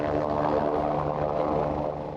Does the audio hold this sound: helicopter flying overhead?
yes